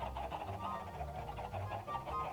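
Minecraft chickens cluck softly and repeatedly in a crowded pen, a faint, continuous bed of clucks and chatter with no talk over it.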